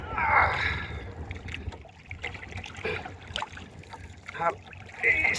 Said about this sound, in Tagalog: Sagwan muna natin konti.